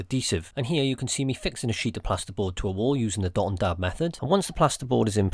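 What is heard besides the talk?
No distinct noise like a dog, phone or traffic.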